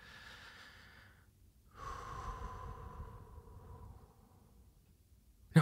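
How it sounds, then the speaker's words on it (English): One person takes a slow, deep breath close to the microphone: a quiet inhale, a brief pause, then a long, soft exhale in an otherwise silent room. "Take another nice big deep breath."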